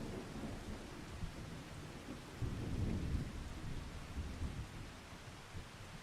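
Rain falls steadily on a farm field with a low rumble of thunder swelling in the middle and fading again, all fairly quiet and distant with no voices.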